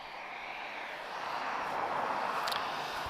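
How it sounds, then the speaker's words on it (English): An Airbus A321neo LR arriving at Lisbon Airport from Porto gives a broad, distant jet roar that swells slightly as it approaches, steady and moderately faint, with no speech. "So it's another A321neo LR. And this one's arriving from Porto."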